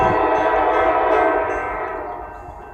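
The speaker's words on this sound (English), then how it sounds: "This is the last normal CSX train we're going to see of the day." A CSX freight train passes with a loud sustained horn blast and steady rail rumble, fading away toward the end, with no talk.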